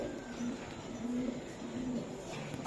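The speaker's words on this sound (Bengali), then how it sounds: "এই যে এক জোড়া কবুতর দেখতেছি আপনার, এগুলো কি কবুতর গুলা? এগুলো লাল পাতি।" A pair of Lal Patti pigeons cooing softly nearby, three short, low, throaty coos spaced at a slow, even rhythm over faint background noise.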